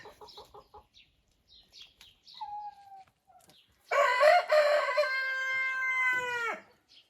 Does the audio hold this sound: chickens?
yes